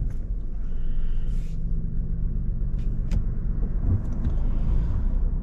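A car passes on a road near the Barking test centre, heard from inside a vehicle as a steady low engine rumble and road noise that swells slightly and then holds.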